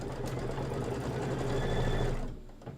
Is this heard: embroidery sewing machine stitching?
yes